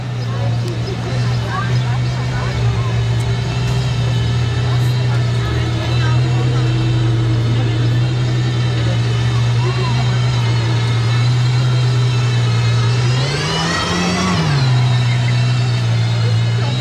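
A loud sports car engine drones steadily, then revs up sharply and falls back as the car passes close by on a Monaco street.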